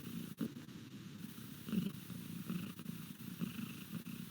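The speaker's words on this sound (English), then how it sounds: "She's purring in my lap right now." A cat purrs continuously and up close, a low rhythmic rumble with soft breathy pulses, without any talking.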